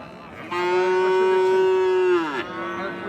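An Australian-breed bull at a cattle market lets out one long, loud, close moo that holds steady for about two seconds before dropping off, with faint market background around it.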